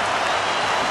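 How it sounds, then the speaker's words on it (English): Essendon supporters in a packed stadium crowd at an AFL match cheer and roar in a dense, continuous wash of noise, with no gaps. "I reckon Essendon supporters are cheering this."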